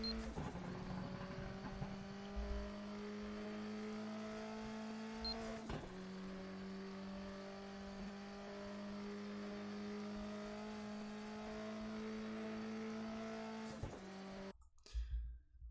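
A turbocharged race car accelerates on a track, its engine droning steadily with a brief shift-like break midway and engine noise cutting out near the end.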